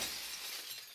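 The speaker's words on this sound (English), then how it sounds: "The sound of shattering glass wrenches me awake." Glass shattering in the video game Promises to Keep, a loud dense crash of breaking glass filling the whole second, with sharp bright fragments fading slightly at the end, heard alone.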